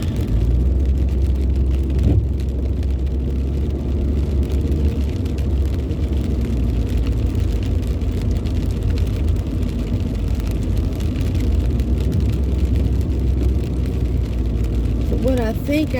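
A car drives on a rainy day, giving a continuous low rumble of road and engine noise from inside the cabin that stays steady and fairly loud throughout.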